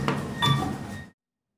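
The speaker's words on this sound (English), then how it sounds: "Doors opening." Otis elevator doors slide open at a medical office tower, a short soft rumble with a faint chime-like tone, close and brief, ending abruptly in silence.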